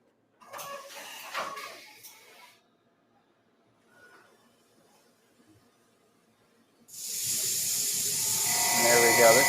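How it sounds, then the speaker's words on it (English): A CNC thread mill cuts a castle nut thread in a single quick pass on a firearm part. A bright, steady hissing whine of cutting and coolant starts abruptly after a quiet stretch with faint earlier noises. "he's going to show us the thread mill operation"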